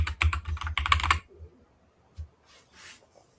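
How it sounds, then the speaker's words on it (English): Fast typing on a computer keyboard, a dense burst of close key clacks that stops after about a second, followed by near silence with a couple of faint isolated taps. "Go ahead and type something."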